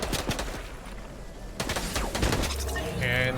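Rapid bursts of automatic gunfire in a shooter video game, crackling volleys in quick succession, with a voice talking over parts of the action.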